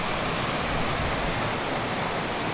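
Steady rushing water, a broad continuous hiss of a flowing river near Mount St. Helens, close and unbroken with no voices.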